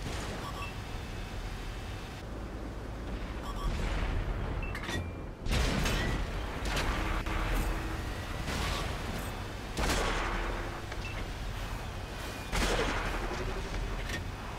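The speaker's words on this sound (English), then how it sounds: "This poor Bat Chat is bouncing his whole clip off the back of my turret." Tank shells from a Bat Chat clanging and bouncing off the rear of a T110E5 turret in World of Tanks, a string of sharp metallic impacts and booms over rumbling engine noise, with no talking.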